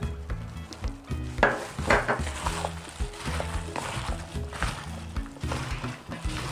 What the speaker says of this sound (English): And then we put the green onion.